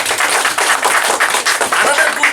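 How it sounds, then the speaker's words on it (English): Audience applause at a Tripura workshop gathering, dense and steady clapping from many hands held near and loud throughout, with no speech over it. "Another round of applause."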